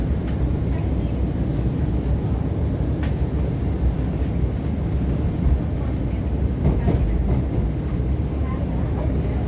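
Rumbling train on a damaged track, moving slower than normal, a steady low roar with occasional clanks throughout, faint voices in the background.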